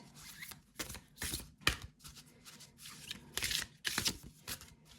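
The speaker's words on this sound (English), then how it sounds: "So let me shuffle this up a little bit." A deck of tarot cards is shuffled up close in a quiet room, giving a series of crisp riffling and slapping bursts, roughly eight of them in uneven rhythm with short pauses between.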